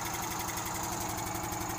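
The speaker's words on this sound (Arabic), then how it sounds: "تسمع الماكينة واش تسرسير ولا لا" A used motorcycle engine runs close by at a steady idle, its fast, even mechanical ticking and pulsing thrum repeating without a break and no voices over it.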